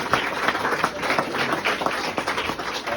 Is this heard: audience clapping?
yes